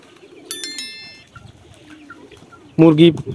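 A short, soft coo from a desi pigeon kept on a rooftop alongside chickens near the end, preceded by a brief metallic ding; otherwise quiet with faint background noise.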